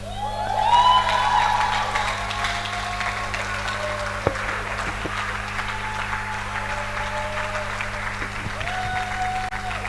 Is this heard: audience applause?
yes